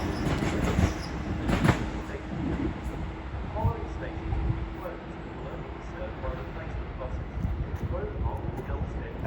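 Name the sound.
Class 465 train passing through Orpington station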